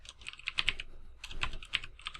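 Fingers tap on a computer keyboard in quick irregular clusters of crisp clicks, close and fairly quiet, with short pauses between bursts during programming work.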